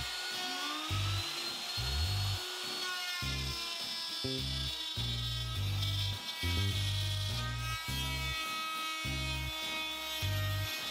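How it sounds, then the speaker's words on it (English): A handheld router cuts a groove in wood for an X-braced coffee table, a loud steady whine with rhythmic bursts as the bit bites in and eases off, close by with no talking. "So now I'm gonna get my router and try it."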